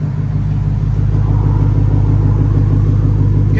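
BMW V8 engine idling, a loud, steady low rumble with an even, throbbing pulse and no change in pitch.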